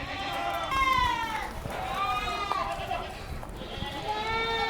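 Boer goats bleating, several wavering cries in a row, close and fairly clear over low background noise and murmuring voices.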